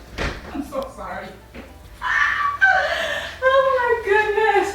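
A pet dog named Zoe whimpers and whines in rising, wavering cries as she is let in through a door, close by, with a person talking softly over the sounds.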